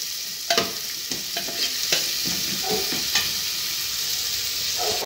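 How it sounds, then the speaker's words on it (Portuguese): Onion browning in oil in a pan for a Brazilian tripe and vegetable stew, a steady close sizzle with a few light stirring scrapes and no talk. "Vou deixar dourar um pouquinho para acrescentar a dobradinha."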